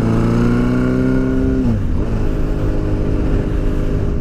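A hardtail bobber chopper motorcycle engine drones loud and close while riding onto a freeway, a steady throbbing hum that dips in pitch briefly as the rider shifts, then holds steady under rushing wind.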